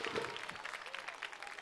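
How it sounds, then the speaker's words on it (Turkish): An audience at a children's holiday stage show for April 23 claps continuously, the applause a dense, even wash that doesn't let up over the short stretch. "Alkışlar hiç durmuyor."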